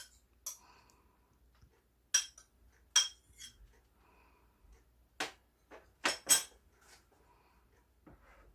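Kimchi being put into a pot for Korean budae-jjigae brings a scatter of sharp clinks and taps from utensils against cookware, spaced irregularly in an otherwise quiet kitchen.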